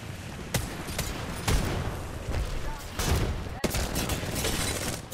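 Rapid bursts of gunfire and booming shots in a competitive Apex Legends match, loud and dense with sharp cracks in repeated volleys, an excited caster's voice running underneath.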